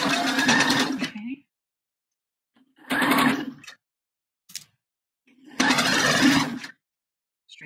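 A sewing machine running a quarter-inch straight stitch around a bra cup comes in three short whirring bursts separated by pauses, close and clear, with a faint tap in one gap.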